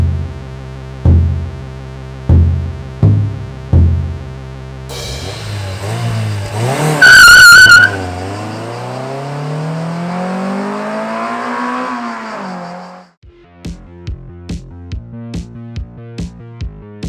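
A 1990s Honda Civic EG6 VTi with its VTEC engine is heard up close: several sharp blips of revving, then a long pull climbing through the gears with a whine, followed by rapid rhythmic engine pulses.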